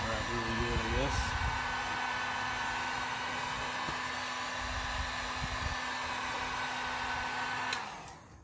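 A heat gun blows a steady, loud whirring hiss to warm an LED blinker stuck to vinyl wrap on a Can-Am Ryker front fender, running continuously before winding down at the end.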